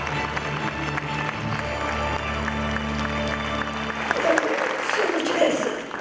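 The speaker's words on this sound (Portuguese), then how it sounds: "E o público com merecidos aplausos. Em pé." A standing audience applauds at a literary awards ceremony, dense steady clapping under a low held musical hum that drops away near the end as the clapping carries on alone.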